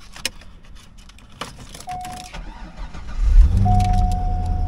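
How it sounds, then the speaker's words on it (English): A Chevrolet Corvette engine cranks and fires, then settles into a steady idle, with low rumble building after a few brief clicks and a faint key jingle, close and fairly loud. "let's go ahead and fire up this car and let it idle while we walk around it"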